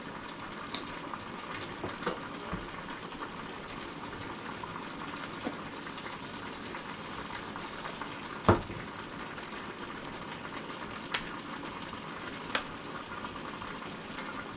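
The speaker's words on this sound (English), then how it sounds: "Y'all probably hear that simmering away over there in the turnip." A pot of turnip greens simmers quietly, giving a soft, steady bubbling hiss with occasional small pops and clicks, fairly faint and without talk.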